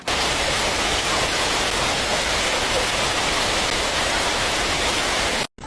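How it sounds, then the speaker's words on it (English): A night storm over a city drives fierce winds and pounding rain in a loud, continuous, dense roar that holds steady before cutting off abruptly at the end. "the city was hit with fierce winds, pounding rain, and flashes of lightning"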